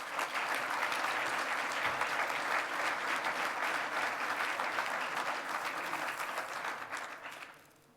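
Awards-ceremony audience applause, a steady, full roar of many hands clapping that holds evenly for several seconds before fading out at the end; heard at a moderate distance without talk.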